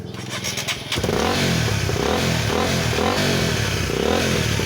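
Rs 150 motorcycle engine cranks briefly, then catches and settles into a loud, steady close idle with a pulsing rhythm; the bike has a lean angle sensor fault and tends to stall.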